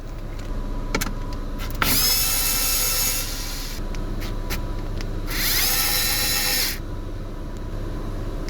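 Bolts are unscrewed to free a car radio, giving two long scraping, whirring stretches separated by small clicks and taps, close by in a quiet interior.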